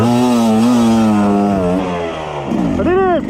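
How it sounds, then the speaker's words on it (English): Motorcycle engine revving up and down as the rider works the throttle and clutch lever, loud and close with a rising pitch sweep near the end. "I'm basically just like modulating the throttle a lot more than I need it to be"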